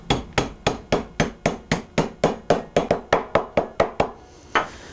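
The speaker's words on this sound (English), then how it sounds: "this is my chance to use it to crush my walnuts down" Walnuts being crushed with a Whacker spoon for a rum cake, about fourteen sharp, loud, close knocks in a fast steady rhythm, then a short pause and one final whack, with no talking.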